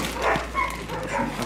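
A dog at a homeless animal shelter gives a few short, close barks and yips in a quick burst, with faint background noise around them.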